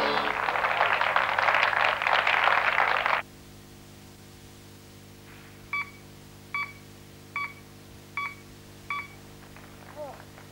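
Pacemaker transmitter tones carried over a telephone line: a burst of loud broadband noise, then a series of five short, evenly spaced electronic tone pulses over a steady line hum, with a faint chirp at the end.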